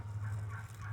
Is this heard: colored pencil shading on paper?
no